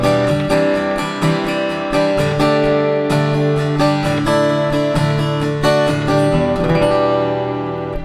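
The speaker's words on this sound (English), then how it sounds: "So I have my guitar with the K&K pickup plugged into the tone dexter," An acoustic guitar with a K&K pickup runs direct through a Tone Dexter, strummed and picked in a busy, bright passage of many quick chords and notes, loud and close, with the final chord ringing out at the end.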